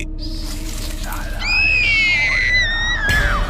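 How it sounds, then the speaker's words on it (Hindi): A woman's piercing scream rises and wavers over roughly two seconds in a tense horror story scene, loud and close, preceded by a quieter vocal sound and ending with a breathy burst. "तुम चिल्लाई क्यों?"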